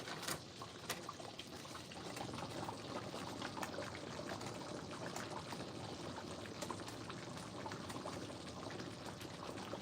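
Hot sauce bubbles and splashes in a cooking pot with a steady, dense sputtering hiss, broken by scattered sharp pops, fairly close and unbroken, with no talk.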